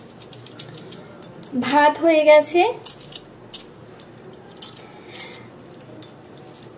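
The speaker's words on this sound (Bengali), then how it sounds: "এই যে এখন এই যে আলু ছুলছি" A knife scrapes potatoes in a home kitchen, a burst of quick rasping strokes heard close up while someone speaks, followed by faint scraping.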